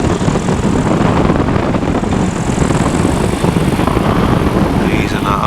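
A PeaBee ultralight aircraft engine drones loudly and steadily in flight, a continuous buzzing roar close to the listener.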